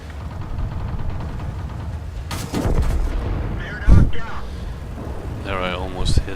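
A tank's main gun fires in World of Tanks amid continuous engine rumble, one sharp loud blast standing out midway with shorter bangs around it, while someone talks over the game sounds.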